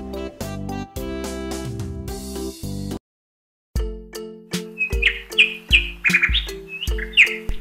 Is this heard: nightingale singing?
yes